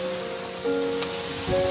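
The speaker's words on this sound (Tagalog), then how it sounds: "Lakas ng ulan." Heavy rain pours down in a steady broadband hiss, close and continuous, with a few brief tonal sounds from nearby activity over it.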